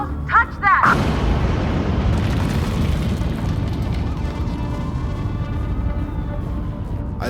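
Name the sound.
explosion shaking a building, audio drama effect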